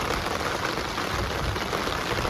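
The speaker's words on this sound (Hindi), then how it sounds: "मूसलाधार बारिश हो रही है।" Heavy monsoon downpour in the mountains at Solang near Manali, India, a dense, constant hiss of rain that is loud and unbroken, with no voices.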